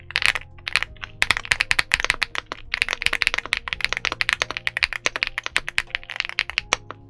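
Typing on a Feker Galaxy80 aluminum TKL mechanical keyboard: fast, continuous clacking keystrokes in irregular bursts, close and crisp, with no voice over them.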